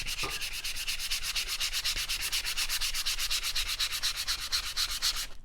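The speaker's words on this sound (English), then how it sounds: "Sand away the paint." Sandpaper is rubbed hard over painted wood on a faux shiplap sign, making a rapid, steady back-and-forth scratching rasp that is close and continuous with no talk.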